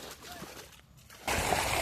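Water runs and splashes through a farm field beside eggplant plants, a steady wash that swells loudly near the end while a voice talks over it.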